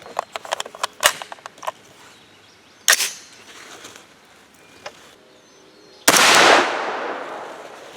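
A 300 Blackout rifle firing a 208-grain Hornady handload: one sharp, loud shot with a long decaying blast tail, following a few sharp metallic clicks and handling knocks and some faint outdoor background.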